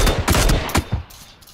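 Gunfire in the video game Battlegrounds: a few loud bursts of rapid shots in the first second, then a quieter tail, with no talk.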